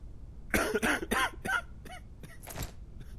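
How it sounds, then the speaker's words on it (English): Coughing from a character in the infection-inspection game Quarantine Zone: a run of about six or seven close, harsh, wet coughs in quick bursts, loud and isolated with no talking. "Okay, so you're coughing."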